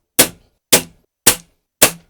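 Four sharp shots from a Diana P5 Magnum air pistol, evenly spaced about half a second apart, each a crisp crack with a quick decay, with silence between them.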